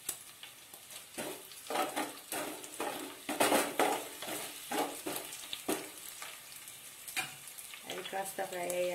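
Crushed garlic and a bay leaf sizzle in hot oil in a pan, a steady frying hiss broken by repeated scrapes and clinks of a stirring spoon, close and moderately loud.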